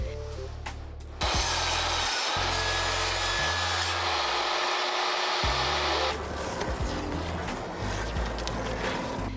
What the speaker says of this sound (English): run it through the table saw and get straight cuts on all the edges